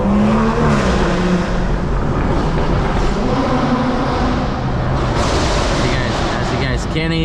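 Loud car engines roar and rev close behind while driving through New York City streets, a dense continuous rumble with brief tire-like squeals, sustained for the whole stretch with no talk.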